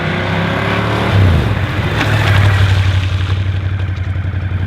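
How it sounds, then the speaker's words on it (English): A Ducati motorcycle engine runs at a steady mid-pitched drone on a wet training track, rising briefly as hard emergency braking is applied, then holding an even rumble throughout with no voices. "emergency brake in the wet."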